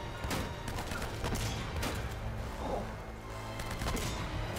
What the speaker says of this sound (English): Or is that another shotgun?